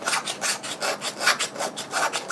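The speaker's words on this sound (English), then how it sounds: "some sweet Fatwood, tell you what. Do some shavings as well." A knife shaves curls off a piece of fatwood in quick, rhythmic scraping strokes, close and fairly quiet, with about ten rasping pulls and no talk.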